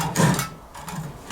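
Hacksaw cutting metal during intake and exhaust manifold work on a Ford 800, with a few close, rasping back-and-forth strokes and no talking.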